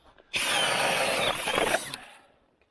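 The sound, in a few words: drilling holes in ice for ice fishing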